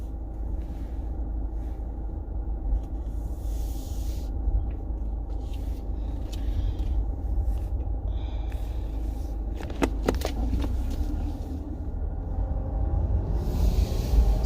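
Car interior on the road heading to McDonald's, with a steady low engine and road rumble throughout and a few brief rattles and clicks near the middle, no talking.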